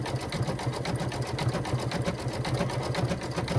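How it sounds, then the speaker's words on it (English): A sewing machine runs line stitching on fabric in a fast, steady mechanical whir with an even pulsing rhythm, close and continuous, with no talk. "this is going to do those line stitching"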